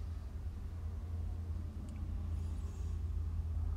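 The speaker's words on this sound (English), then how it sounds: "I don't know if y'all can hear the cars in the background or not." A low, steady rumble of traffic passes in the distance, faint and continuous, with a brief high hiss like air brakes.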